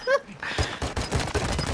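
Gunfire in a battle royale video game crackles in quick, repeated bursts of close shots after a brief vocal sound at the start.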